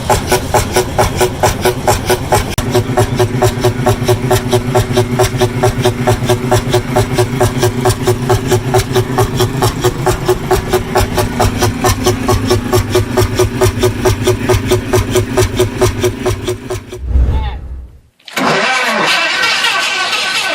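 A V234 engine, a large two-stroke with crankcase ports and giant pistons, turns over and keeps running in a loud, fast, steady chugging pulse that continues for many seconds before briefly faltering, dropping out and catching again.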